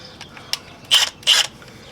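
Ratcheting on a 2009 Ford Ranger as a sway bar link is screwed back in: a few soft ticks, then two short, loud metallic ratchet bursts up close, with no talk.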